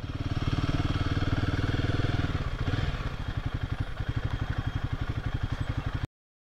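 A motorcycle on a Meghalaya road trip idles close by, its engine thumping in a steady rhythmic putter that slows slightly before cutting off abruptly.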